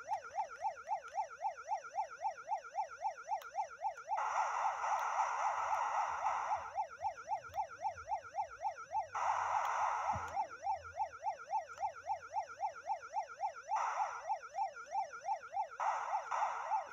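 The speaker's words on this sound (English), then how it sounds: "I got my siren on." A wailing police siren from a video game cycles rapidly up and down, steady and loud, with bursts of broadband engine-like noise cutting in a few times.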